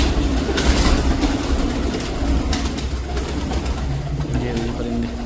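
Pigeons at a rooftop pigeon loft in a Punjab village coo and flutter amid dense, noisy outdoor background with a low rumbling drone throughout.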